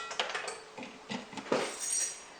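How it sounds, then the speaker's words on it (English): A metal inner pot holding rice is set down into a rice cooker, giving several light, close clinks and knocks over a couple of seconds with no talking. "When we put the rice inside the rice cooker"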